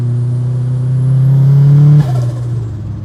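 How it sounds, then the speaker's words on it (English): A 470-horsepower turbocharged Mazda Miata on E85 fuel accelerating hard, its engine note climbing loudly before dropping sharply at a shift, with turbo whoosh and noise close and strong throughout. "Wow, wow, loud turbo sounds."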